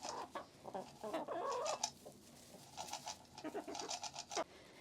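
Chickens cluck and murmur close by in short, uneven bursts, with brief quiet gaps between their calls.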